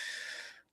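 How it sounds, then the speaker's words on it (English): A short, deep, breathy inhale before vocal toning, close and airy, cutting off abruptly after under a second. "Deep breath, inhale"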